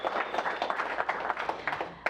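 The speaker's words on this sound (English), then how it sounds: "everyone give him a round of applause" A small audience claps briefly at a stretch therapy demonstration, a short patter of scattered hand claps at moderate distance, fairly light and thin.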